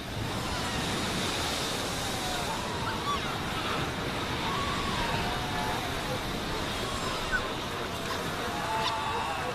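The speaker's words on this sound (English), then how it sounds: "The pups fight desperately against the onslaught of the waves." Ocean waves wash over a seal pup colony in a steady, broad roar of surf that runs unbroken and fairly loud, with faint higher cries mixed in.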